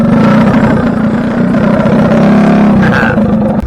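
Mini bike engine running at the Orcutt car show, a loud close buzzing drone that holds steady, then shifts pitch briefly near the end.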